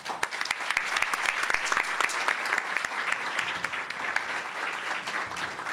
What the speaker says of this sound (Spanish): y pues un aplauso